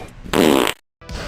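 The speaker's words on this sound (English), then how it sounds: "So farts equals more farts." A single loud, close fart lasting about half a second, raspy and buzzing, followed by a moment of silence and a short tail of noise.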